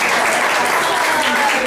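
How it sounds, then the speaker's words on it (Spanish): A group applauds for a performer named Tola, close and loud, dense steady clapping filling the whole short stretch. "Bien, aplausos para Tola."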